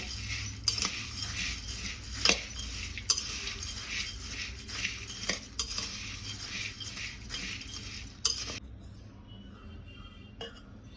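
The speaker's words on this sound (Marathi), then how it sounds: "यात आपण सगळं मिक्स करून घेऊया" Spoon stirring and mixing wet bhel ingredients in a bowl, steady scraping and soft clinks with a few sharper knocks, fairly close, ending quieter.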